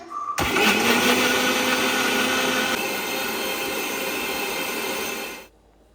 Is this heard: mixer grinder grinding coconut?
yes